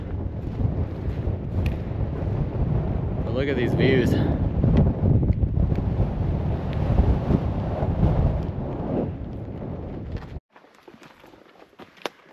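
Wind gusting across a dry mountain trail while backpacking, buffeting the microphone in a rough, steady roar with a brief lull near the end; someone speaks over it.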